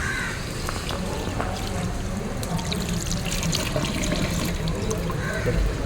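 Water runs steadily from a tap as hands are washed at an ISKCON temple, a continuous close splashing flow with faint voices in the background.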